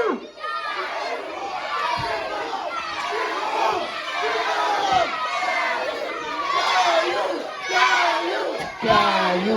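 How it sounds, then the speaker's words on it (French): A loud crowd at a wrestling event keeps chanting and shouting together in rhythm, a dense wall of voices that lasts throughout with bursts of yelling. "Si vous continuez à crier caillou,"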